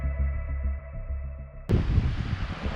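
Strong wind buffets the microphone on a seaside pier at Point Lonsdale on a rainy day. After a quieter, tonal start, a loud, rough roar of gusts abruptly takes over and continues to the end.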